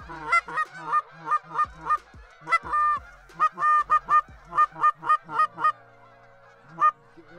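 A flock of Canada geese honks over a freshly chopped corn field, with repeated loud, close calls in quick bursts, then a single honk after a short pause.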